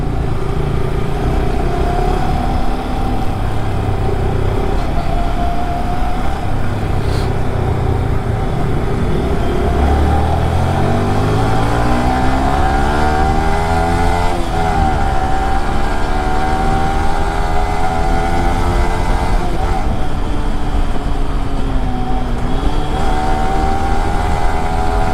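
A Yamaha R15 V3 motorcycle rides through city streets, its engine droning steadily and loud close by, with rising and falling pitch sweeps as it accelerates and shifts, amid traffic noise.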